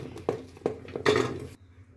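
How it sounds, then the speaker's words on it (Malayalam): Washed ingredients dropped into a pressure cooker in the kitchen, making several soft thuds and metallic clatters, then a louder rattling splash before the sound stops. "ഞാൻ ഇതെല്ലാം നല്ലതുപോലെ കഴുകി ഇനി അതൊരു കുക്കറിലേക്ക് ഞാൻ ഇടുകയാണ്."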